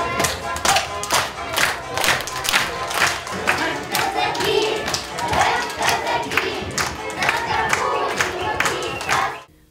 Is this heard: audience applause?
yes